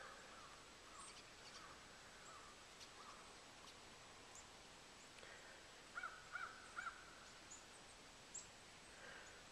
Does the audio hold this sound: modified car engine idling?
no